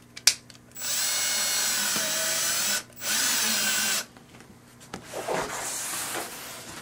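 A power drill drives a screw through a pre-drilled hole while installing a slider, in two close, loud whirring bursts of about two seconds and one second, followed by faint handling clatter.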